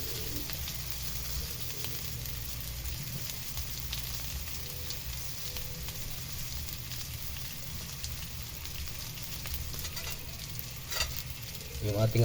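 Milkfish frying with string beans in a pan gives a steady close sizzle throughout, with brief stirring noises and a louder burst near the end.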